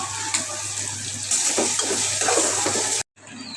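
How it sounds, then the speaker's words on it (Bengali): Onions frying in a pan as garlic paste goes in, with a steady sizzle and spoon stirring scrapes, cutting briefly to near silence before the sizzle returns. "পেঁয়াজগুলো ভাজতে নিচ্ছি এবার রসুন বাটা দিয়ে দেবো"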